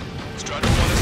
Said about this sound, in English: Missile hit the supply ship dead on.